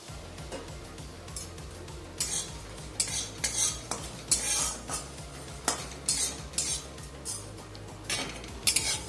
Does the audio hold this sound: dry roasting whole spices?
yes